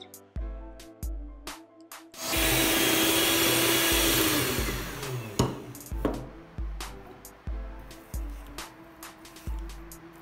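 A few sharp knocks, then an electric mixer whirs loudly and steadily as it beats gluten-free chocolate cake batter. The motor tone fades while rhythmic thumps and clacks continue around the bowl. No voices.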